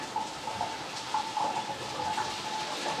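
Water runs steadily from a Lorenzetti Acqua Duo electric shower, a soft, even splashing hiss that continues throughout at a moderate, close level.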